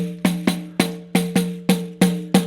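A pandero frame drum struck with the thumb, eight or so resonant tonal hits at a steady, moderate pace, each ringing briefly before decaying, close and alone.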